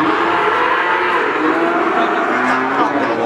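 Cattle at a village livestock market selling calves, a loud drawn-out moo filling the moment over a busy background of crowd murmur and other animals.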